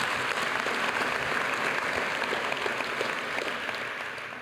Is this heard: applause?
yes